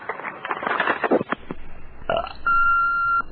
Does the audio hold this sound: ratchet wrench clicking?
no